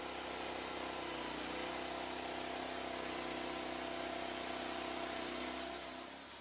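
A Lumber Pro sawmill engine runs at a steady, loud, mid-pitched drone that holds constant and eases off slightly at the very end, with no voices.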